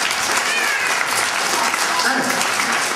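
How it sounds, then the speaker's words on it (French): An audience at a French Guignol puppet show applauds, a dense, steady burst of clapping heard close and loud throughout, with children's voices mixed in. "On applaudit Anna très fort."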